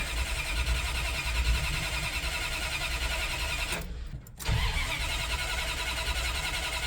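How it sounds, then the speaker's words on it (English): A Ramcharger's engine cranks at length on an empty carburetor, a steady loud churning rhythm that briefly drops out and then resumes, heard close. "So it's gonna be cranking for a bit."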